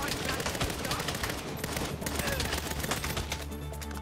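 Assault rifle fire in the video game Saints Row (2022), with dense rapid bursts that run steadily through the whole stretch alongside game effects and some voice.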